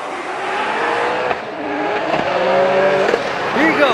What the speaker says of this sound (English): Here you go, both cars flicking it out.